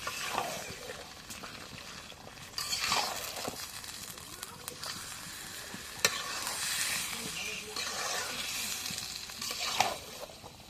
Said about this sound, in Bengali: একটু মাংসগুলো নাড়া দিয়ে দিই।